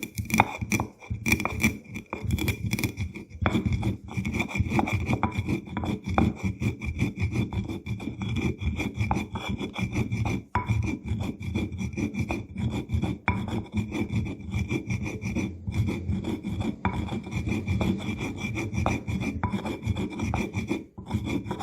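Chillies pounded and ground in a stone mortar, heard as a dense, steady rasping scrape with rapid grinding strokes and occasional knocks, close and continuous throughout with no voices.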